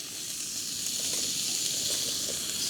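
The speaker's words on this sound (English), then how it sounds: "Starting with a preheated pan, we'll throw in our steak and butter first." Steak and butter sizzle in a preheated pan outdoors in the Sonoran Desert, a steady close hiss that holds at an even level for the whole clip with no talk over it.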